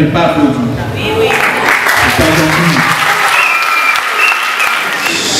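An audience of students, parents and officials at a school event in Congo applauds a student who has stood up, loud sustained clapping with a speaker talking over it.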